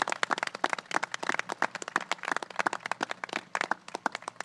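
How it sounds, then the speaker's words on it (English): Dense applause from a crowd at an outdoor event for a bridge implosion in Ulster County, many hands clapping steadily and continuously throughout, fairly close and lively. "Let's give them a round of applause."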